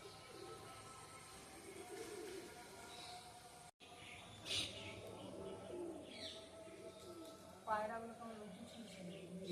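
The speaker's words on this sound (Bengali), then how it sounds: "পায়রাগুলো গান করছে বসে বসে বাকুম বাকুম করে।" Soft, repeated cooing of pigeons in the background, with people talking over it and some other ambient noise, in the morning.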